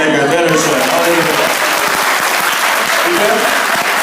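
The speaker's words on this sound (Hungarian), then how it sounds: "akkor tapsolj meg őt erősen" Church congregation applauding loudly and continuously, a dense close wash of clapping with voices mixed in throughout.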